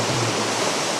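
The third tier of Erawan waterfall in Thailand, a steady, dense rush of falling water, close and full, heard alone for a brief moment.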